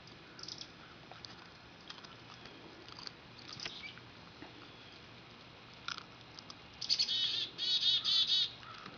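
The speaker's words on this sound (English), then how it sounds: "Look at those birds." Small birds chirping in quick, high bursts, sparse at first then a cluster of bright tweets near the end, fairly close against quiet background.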